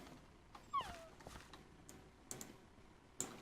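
A Minecraft dog gives a brief, faint whimper amid soft clicking of a computer keyboard and mouse. The whine is thin and quiet and is followed by scattered light taps.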